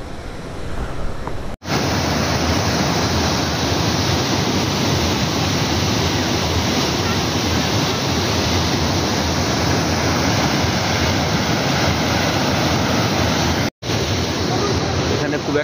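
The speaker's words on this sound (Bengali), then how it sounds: "একটা সুন্দর ওয়াটারফলের কাছে একটু দাঁড়ালাম" A waterfall along the Silk Route near Nathang Valley roars loud and close as a dense, unbroken rush of water, with two brief dropouts.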